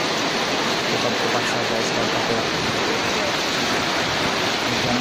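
Heavy rain pours down on an outdoor market in Martapura, a dense, steady roar that fills the whole clip up close, with a voice talking briefly over it.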